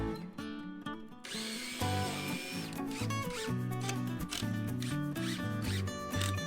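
A power drill drives screws into wooden staircase boards in short bursts, its high whine rising and falling, partly buried under steady background music.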